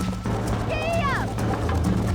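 A horse gallops in the video game Red Dead Redemption, rhythmic hoofbeats running continuously under game music and spoken voices, with a brief tonal flourish midway.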